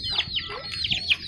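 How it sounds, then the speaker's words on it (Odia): Native country chickens cluck in a quick series of short, nasal calls close by, with several bursts spread across the moment and faint background murmur beneath. "ଏଇ ଆମର ଦେଶୀ କୁକୁଡ଼ା"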